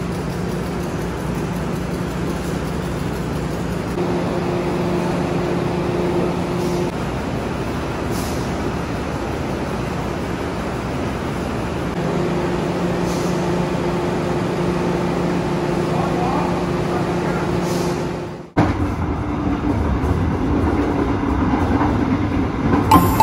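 A passenger train rumbles along with a steady mechanical hum and rail noise, a brief dip and jolt near the end as it slows arriving at a station in Indonesia.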